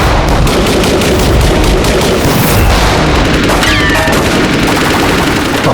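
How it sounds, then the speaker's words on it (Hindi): Loud, dense burst of gunfire with booming shots and crackling over a constant roar, no clear pauses between reports. "अगर किसी ने गोली चलाई"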